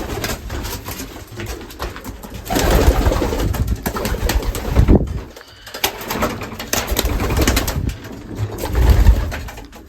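Racing pigeons at their loft coo steadily and close by, soft throaty calls overlapping in a continuous flock murmur with rustling and wing movement, loud and without talk.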